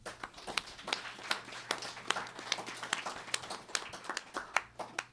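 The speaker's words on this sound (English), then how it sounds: "Please give her a round of applause." An audience gives a round of applause at a community gathering: a steady stream of individual hand claps from a modest crowd, moderately close and irregular, continuing for several seconds without talk.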